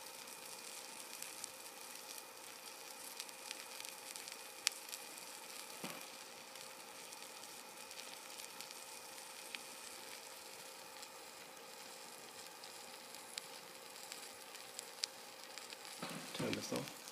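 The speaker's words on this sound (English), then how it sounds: "There it goes, it's boiling the water." Water boils in a vessel heated by an induction heater's work coil, a faint, steady bubbling hiss with scattered soft pops and a thin electrical hum, ending with a clunk as the unit is handled.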